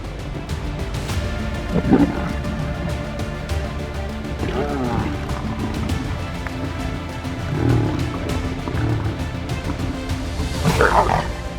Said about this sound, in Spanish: El búfalo intenta forcejear, pero su fuerza no es rival para la manada de leones.